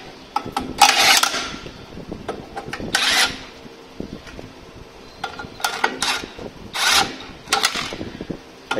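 An impact tool set to stop at snug tightens clutch bolts on a Volkswagen Beetle, giving several short, sharp buzzing bursts separated by pauses with light metallic handling sounds between them.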